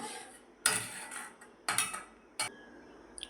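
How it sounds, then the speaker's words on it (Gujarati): Metal lid lifted off a cooking pot while paneer tikka masala simmers, giving three sharp clinks and scrapes of metal against metal, close and fairly loud, with no talk. "જુઓ હવે આપણા ઢાંકણું લઈ લઈશું"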